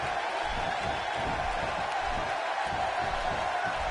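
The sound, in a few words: wrestling crowd reacting in a WWE video game match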